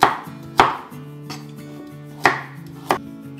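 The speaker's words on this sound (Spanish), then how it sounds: "ahora la vamos a cortar en trocitos" A knife chops a peeled carrot into small chunks on a board, giving four sharp, separate thuds spaced unevenly over a few seconds, close and clear with no talking.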